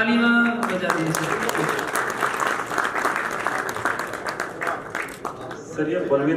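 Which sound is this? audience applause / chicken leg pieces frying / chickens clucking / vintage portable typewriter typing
audience applause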